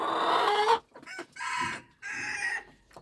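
Chicks and chickens kept on a small farm cluck close by in three bursts of squawking calls separated by short pauses.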